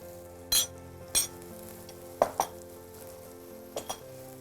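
Chopped carrots sizzle in a frying pan under a quiet steady hiss, while a utensil scrapes and stirs against the pan in several short, sharp clatters, some paired.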